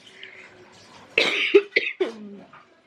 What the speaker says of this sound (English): Cough doesn't seem to be improving.